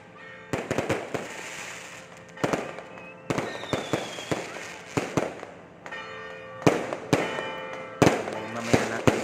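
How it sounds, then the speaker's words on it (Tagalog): Sharp fireworks bangs go off one after another at irregular intervals during a religious fiesta in Agoo, loud and booming with echoing tails, over a low murmur of crowd noise. "Habang nagpapaputok na rin sila ng fireworks."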